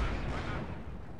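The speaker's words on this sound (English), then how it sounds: "Light artillery barrage launched." Light artillery barrage in the video game Company of Heroes 2, a brief, dense rumble of distant booms and low thuds rolling together without clear separate hits.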